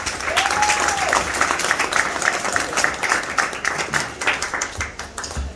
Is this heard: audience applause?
yes